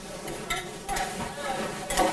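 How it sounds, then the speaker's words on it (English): Butter glazing lamb in a hot pan: soft sizzling and stirring with light scrapes of a utensil against the pan, steady and close, rising in brief bursts, with no talk. "Tiny bit of butter. I'm just going to glaze that up."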